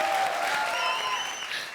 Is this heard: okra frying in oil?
no